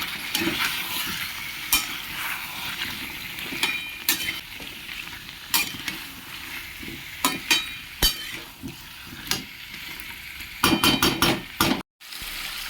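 Potatoes and ash gourd being stirred into a fish curry in a pan, with a constant loud sizzle broken by repeated sharp metal scrapes and clinks of the spatula, close up and without any voices.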